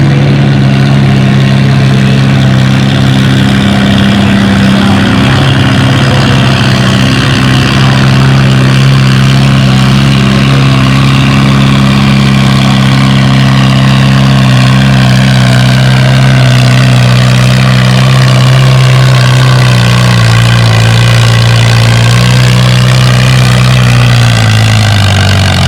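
A pulling tractor's engine at a fall tractor pull in Lynden idles loud and close, a steady deep drone with a slight rise in pitch toward the end, no talk over it.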